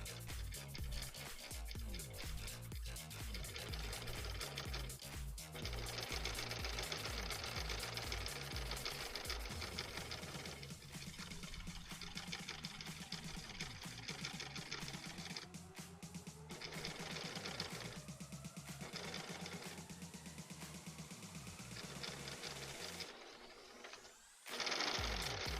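A sewing machine stitches thread at a slow, steady pace, running almost continuously at close range, with its motor whir and rapid needle rhythm dominating before stopping briefly near the end.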